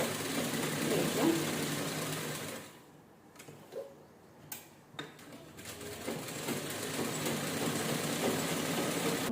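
A sewing machine stitches a canvas strip for a princess blouse neckline, running in steady bursts with a quiet pause in the middle before resuming, while a voice talks over it.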